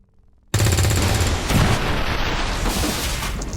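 A loud, close gunshot blast bursts out of near silence in the XCOM Long War of the Chosen video game, followed by a sustained roaring rumble and crackle that slowly decays.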